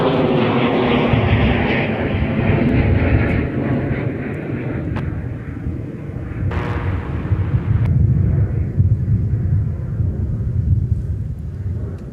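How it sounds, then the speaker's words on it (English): A Dassault Falcon business jet departs from runway 30 left at Minneapolis–St. Paul airport on a windy day, a steady, heavy jet roar and rumble heard from a distance that slowly fades. "a Dassault Falcon sneaking off on 30 left for departure"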